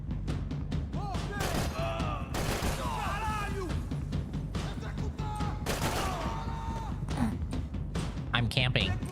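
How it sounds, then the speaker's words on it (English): Rapid gunfire in a cramped office cubicle in Max Payne 3, sharp bursts repeating through the whole stretch under game effects and voices, fairly loud and close. "Shooting in a cubicle."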